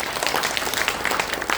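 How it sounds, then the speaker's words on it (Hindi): Audience clapping fills a seminar hall in Agastyamuni: continuous, fairly close applause with irregular sharp hand claps and no voices over it. "तो ताली बजा दीजिए।"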